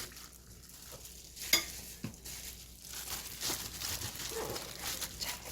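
Outer cabbage leaves are pressed firmly down onto freshly made kimchi during home kimjang. Soft, quiet squishing and crinkling presses repeat close by, with no talk.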